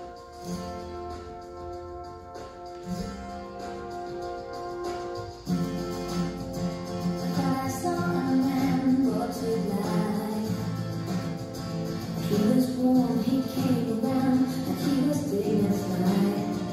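A pop song playing as a recording, a quieter intro building into a fuller, louder band arrangement that carries steadily to the end, with no talk over it.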